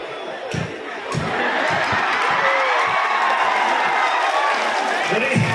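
A large crowd claps and cheers loudly and continuously at a Rongali Bihu celebration, with shouts rising above the sustained roar.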